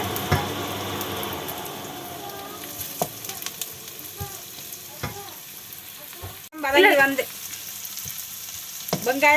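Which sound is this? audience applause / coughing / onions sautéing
onions sautéing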